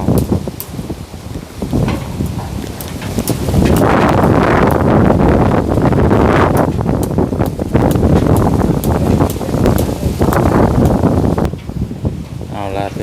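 Strong wind buffets the microphone in loud, continuous gusts, roaring throughout with occasional voices mixed in underneath.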